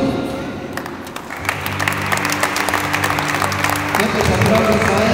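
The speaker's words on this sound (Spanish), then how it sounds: "Fuertes aplausos a ella para recibir su diploma en esta oportunidad." Applause from an audience at a diploma ceremony for computer course graduates, steady clapping filling the room while a man announces names over it.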